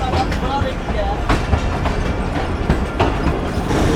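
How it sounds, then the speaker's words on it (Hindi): New Sukkur Express train pulling away from Sukkur railway station, a loud continuous rumble with irregular clickety-clack wheel knocks, heard from on board, with no clear talk. "ये भी दोस्तों ट्रेन ने सक्खर रेलवे स्टेशन छोड़ दिया है और अब आगे बढ़ रही है दरियासन की तरफ"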